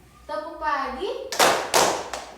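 A class claps together during a chanting ice-breaker game: young voices sing a short rising chant, then two loud, sharp bursts of group clapping follow close together.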